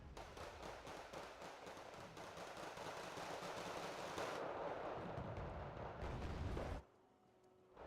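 Rocket strike explosions in the war strategy game Wargame: Red Dragon, a dense continuous roar of overlapping blasts and crackling impacts for about seven seconds, loud and sustained, then dropping abruptly to a quieter rumble.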